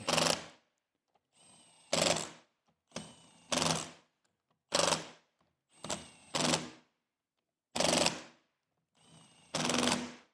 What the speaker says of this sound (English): I'm just going to snug them at the very low setting on this, just to get the ring gear set